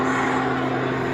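Jet Pitts Special G-JPIT, a Pitts aerobatic biplane fitted with added jet engines, roars steadily at an airshow with a loud, sustained engine drone and strong tonal hum, no talk over it.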